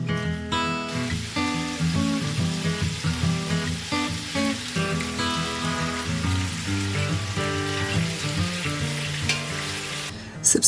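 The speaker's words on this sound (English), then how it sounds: "we'll fry this up in the ghee" Seasoned stew meat frying in hot ghee on a stovetop, a steady sizzle running underneath prominent background music for the whole stretch.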